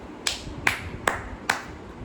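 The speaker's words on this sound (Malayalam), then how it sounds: "ക്ലാപ്പ് അടിച്ച് തന്നെ ഈ വീഡിയോ തുടങ്ങണം" Four sharp hand claps at an even pace, close and dry, alone with only faint room noise between them.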